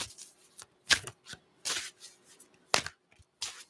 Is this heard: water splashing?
no